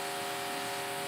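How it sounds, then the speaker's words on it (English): A power drill from nearby construction whines steadily and loudly, a continuous buzzing tone with a broad noisy hiss that runs without a break. "someone is drilling something"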